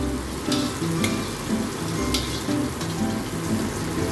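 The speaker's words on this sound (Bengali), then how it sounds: "আমি এর মাঝখানে একটু জায়গা করে নিয়ে ডিমটা দিয়ে দেব।" Beaten egg frying in a hot pan alongside chickpea bhurji, a steady close sizzle and crackle running throughout with a few sharper spits, no voices over it.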